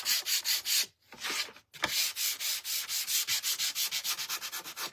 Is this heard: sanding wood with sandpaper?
yes